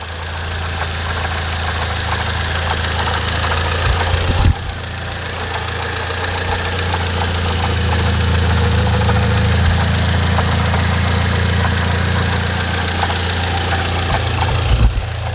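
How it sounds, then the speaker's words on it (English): A Mitsubishi Lancer Ralliart engine idles steadily and loudly close by, a continuous low rumble with slight knocking texture and no talking. "hit start data logger, start the car up, and then give him 10 minutes worth of data"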